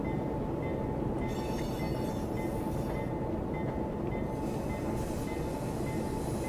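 Metrolink diesel locomotive in the Run8 Train Sim game, a steady low rumbling drone with faint rail noise, constant and fairly quiet throughout with no voices.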